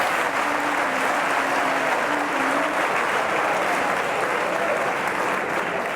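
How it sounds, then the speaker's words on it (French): A large audience at a 2017 school quiz final between two lycées applauds the team coaches, with dense, steady clapping that fills the room from start to finish and a faint voice briefly heard beneath it. "je voudrais que vous applaudissiez les coachs de ces deux équipes"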